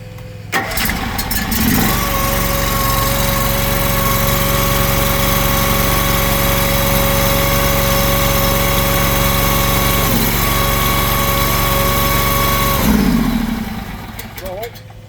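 An Eastonmade 22-28 log splitter's small engine cranks, catches and then runs at a steady loud idle for about eleven seconds before cutting off, with some handling noise at the start.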